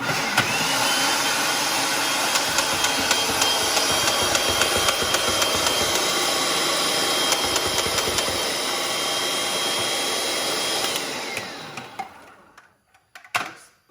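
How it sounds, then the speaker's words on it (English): A food processor purees mushrooms with a loud, steady whirring drone lasting about eleven seconds, then cuts off and winds down, followed by a few faint clatters. "We're gonna puree these mushrooms."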